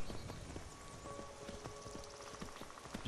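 Steady clip-clop of horse hooves from the video game Skyrim, a quiet, rhythmic trotting beat running throughout over faint game ambience, with no one talking.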